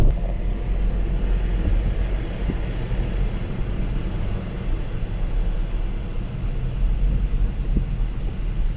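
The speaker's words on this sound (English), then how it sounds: "Just driving right now, all the ditches are full of water." Car driving on wet roads during Hurricane Florence in North Carolina, a constant broad hiss of tires on water over a low engine and road rumble, steady and close with no talking.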